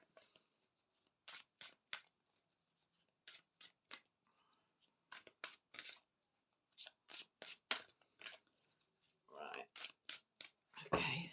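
Tarot cards being shuffled by hand, a series of quick crisp riffling and slapping bursts in irregular clusters, close and clear against near silence.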